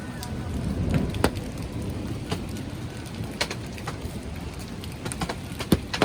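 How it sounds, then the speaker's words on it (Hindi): Heavy rain falls during a trek to Kareri Lake, making a dense, steady hiss dotted with sharp drops and taps striking nearby surfaces. "चाय बनाते बनाते अचानक से फिर से बारिश होने लग गई, पर इस बार बारिश काफ़ी तेज़ थी"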